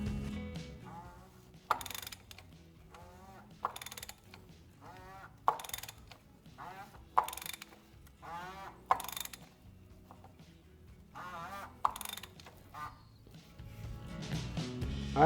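A ratcheting torque wrench clicks in repeated bursts while tightening the oil filter housing on a Porsche Cayman during an oil change, with quick pawl clatters separated by short quiet gaps.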